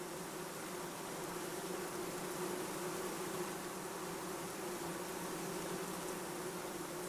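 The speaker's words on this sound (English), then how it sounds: "The bees pack it down to make room for the next load, and the next." Honey bees working inside a hive, a steady dense buzzing hum that runs unbroken and fairly faint, with no voices.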